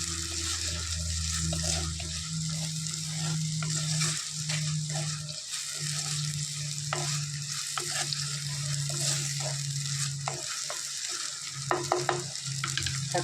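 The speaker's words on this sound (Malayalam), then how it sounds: "തക്കാളിയും കൂടെ ഇട്ടിട്ട് നന്നായിട്ട് വഴറ്റിയിടും." Tomatoes sautéing in a pan for a soybean dish, a steady close sizzle running throughout with faint stirring scrapes and small clicks near the end.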